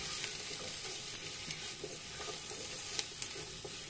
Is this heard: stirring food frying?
yes